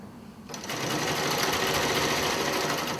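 A sewing machine starts after a short pause and runs at a steady, fast whir, stitching a seam along the edge of a quilt, fairly quiet and with no talking.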